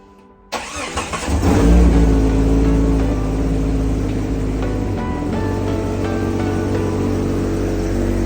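A 1993–98 Jeep Grand Cherokee ZJ engine fires up after a short quiet moment, then rumbles loud and close as the vehicle pulls away, a steady heavy drone continuing to the end.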